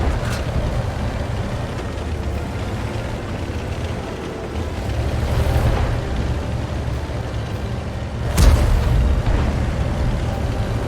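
Waffenträger auf Pz. IV tank destroyer gun in a tank video game, a heavy boom at about 8.5 seconds rising from a steady engine and battle rumble, with a smaller blast earlier.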